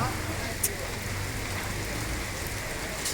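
Steady rain falling outdoors on a vegetable farm, a dense even hiss with a few sharper drip or splash ticks, moderately faint and continuous.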